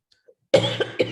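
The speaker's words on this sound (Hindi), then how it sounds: "हाँ खांसी हो रही है।" A single cough from one person, close and fairly loud, bursting out after near silence and repeating in two quick follow-up hacks.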